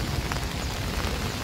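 Heavy rain pours steadily in an open outdoor area, a dense even hiss of drops striking surfaces with a low rumbling undertone, close and continuous.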